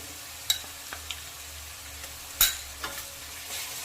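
Ginger and garlic paste fries in hot oil with onions for a pangas fish curry, giving a soft, steady sizzle that is broken by a few sharp spoon clinks against the pan.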